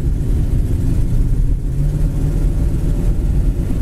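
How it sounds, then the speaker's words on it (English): Steady low road noise from a moving 1966 Ford Thunderbird, a continuous droning hum with a faint tonal whine of tire howl on pavement. "Sounds like a tire howl to it."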